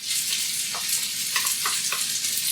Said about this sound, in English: Now what I do is I want to cook this, stirring this around.